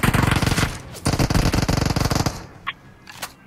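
Gunfire in the battle royale game BGMI: rapid automatic bursts, loud and close, broken by a short pause, then fading to a couple of isolated shots.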